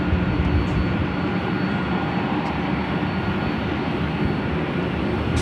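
A Lufthansa airliner bound for Frankfurt taking off from runway 24 Left at Los Angeles airport: a continuous, loud, broad jet-engine roar that stays fairly even throughout.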